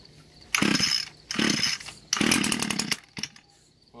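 An Echo GT-225 string trimmer engine is pull-started, sputtering into three loud, rough bursts of two-stroke revving and then a couple of short pops as it catches, close by.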